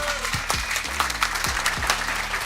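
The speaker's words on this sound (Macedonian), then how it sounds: "Аплауз да чујам да" An audience applauding at a filmed show, steady clapping from a crowd lasting a few seconds, with voices talking over it.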